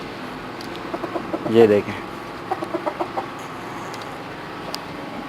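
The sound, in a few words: chickens clucking at night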